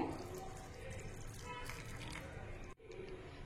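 Water poured into a container of soaked mung beans and rice before grinding for adai batter, a steady splashing pour running throughout, close and fairly loud, with a brief break near the end.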